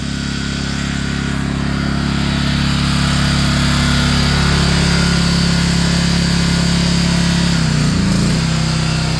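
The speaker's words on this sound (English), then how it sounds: "Okay, you heard the engine." A home generator engine runs at a steady idle, a loud continuous hum with strong low tones that hold constant and waver briefly near the end as the load shifts.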